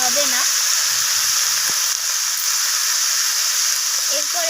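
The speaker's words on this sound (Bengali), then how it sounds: "সমস্ত কিছু মশলা এইভাবে নাড়াচাড়া করে আমি কষিয়ে নিচ্ছি।" Spices for a spinach curry fry in a pan with a loud, steady hiss and sizzle that runs throughout, while a voice speaks briefly at the start and end.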